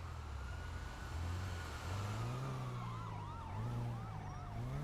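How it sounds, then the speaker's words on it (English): A wailing video game siren in GTA 5 with rising and falling sweeps over a steady rumble of engine noise, fairly loud and continuous. "Are you hearing sirens?"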